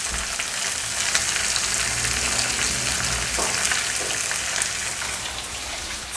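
Sliced onion frying in hot oil with curry leaves for an egg curry, a steady close sizzle with broadband hiss and a few faint stirring clicks, no speech.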